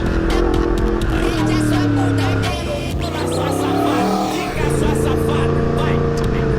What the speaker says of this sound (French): Sur cette MT10 là, il y a un shifter up uniquement, donc on peut entendre ça quoi